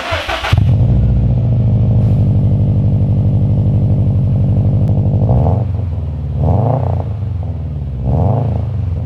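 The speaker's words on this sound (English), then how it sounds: "You're gonna get that Subaru rumble. So let's start it up and see what it sounds like." A 2019 Subaru WRX STI boxer engine with unequal length headers and an Invidia catback exhaust cranks and fires up, settling into a loud, uneven rumbling idle, then blips the throttle in three short revs.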